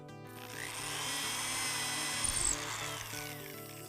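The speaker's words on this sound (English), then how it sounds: "Take the next smallest drill, which in this case is 3/16, and drill down just a 1/2 inch." A power drill bores a 3/16 inch hole about half an inch deep into a wooden board for a simple quilt frame, its motor whining steadily for a few seconds with a brief heavier bite mid-cut.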